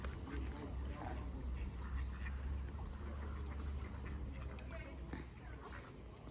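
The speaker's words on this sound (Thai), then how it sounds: "มีเป็ดด้วยค่ะทุกคน" Ducks quacking in a noisy outdoor setting, with a steady low rumble and people talking throughout.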